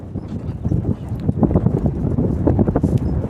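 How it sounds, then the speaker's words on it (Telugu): Wind blowing outdoors in Kuwait under heavy clouds, a moderate gusting rush buffeting the microphone with uneven swells and dips, no speech present. "ఇట్టుంది గాలి, ఏం ఎక్కువ లేదు గాలి"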